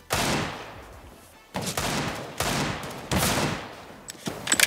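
Bursts of gunfire from a CS:GO match fill the clip in four or five loud, close volleys, each sharp onset trailing off before the next, with no talk over them.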